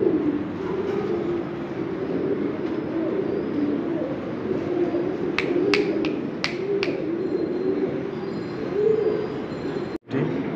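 Fancy pigeons, including king and Andalusian breeds, coo in low, steady, overlapping murmurs close by, broken by a few brief sharp clicks and a single knock near the end.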